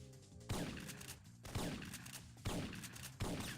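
Gunfire in a video game comes as four heavy shots spaced about a second apart. Each blast is loud and booming with a long rumbling decay, and there is no talk.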